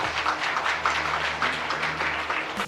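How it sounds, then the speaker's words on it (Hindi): An audience at a Ramayana quiz competition applauds, with dense, steady clapping rising and falling in waves for a few seconds. "जबरदस्त तालियां।"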